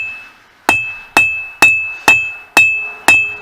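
A 3-pound hammer strikes hot steel while forging hold-down tools for woodworking, six sharp ringing blows at an even pace, each clang leaving a bright metallic ring that decays before the next.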